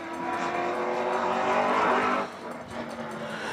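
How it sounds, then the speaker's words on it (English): A street stock race car runs a time trial at Hythe Motor Speedway, its engine roaring loud and close as it swells to a peak, then drops off with a tire squeal as it passes. "Next car on track is the 27B of Mark Barrio."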